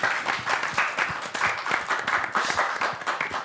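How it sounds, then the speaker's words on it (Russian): A theatre audience applauds a play, dense steady clapping from many hands filling the room without pause. "Но в любом случае, эти аплодисменты вам."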